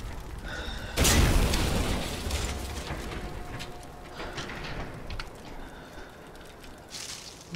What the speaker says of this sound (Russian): Оно все взрывается и взрывается.